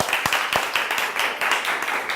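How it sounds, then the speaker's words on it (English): A small audience claps in a brief, uneven burst, individual hand claps standing out sharply near the start before settling into steady scattered applause. "I think that deserves a round of applause, don't you?"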